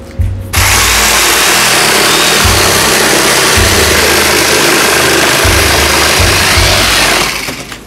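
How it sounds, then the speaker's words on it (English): A jigsaw cuts a hole in a wooden hovercraft deck, buzzing loud and close in a continuous harsh drone that stutters briefly several times as the cut proceeds, with no talking. "Jigsaw time!"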